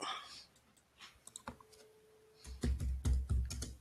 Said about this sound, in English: I'm sorry, I was typing in the chat.